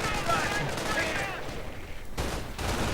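Browning automatic rifle fire crackles in a strategy video game battle, dense overlapping bursts mixed with other gunfire and combat noise, steady and loud throughout.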